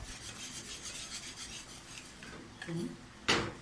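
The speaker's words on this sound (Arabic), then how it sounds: "هتقلبيه كويس جدا كده اهو زي ما انا بقلبه كده" A spoon scrapes softly and steadily around a pan while stirring béchamel sauce for baked pasta, with rhythmic rubbing strokes and a louder scrape near the end.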